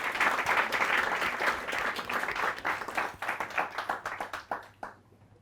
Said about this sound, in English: We have a round of applause for the brave lady.